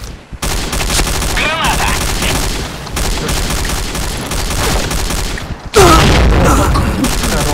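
Grenades explode in the shooter game Point Blank: rapid bursts of blasts and gunfire fill the scene, with a sharp, louder explosion near the end and a voice briefly heard.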